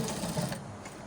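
A short, quick burst of a sewing machine back stitching to finish a welt pocket, fairly soft and steady.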